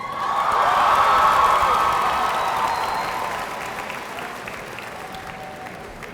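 Audience applause at a high school graduation ceremony, a broad burst of clapping that swells quickly and then slowly fades, heard from within a large hall with a distant crowd feel.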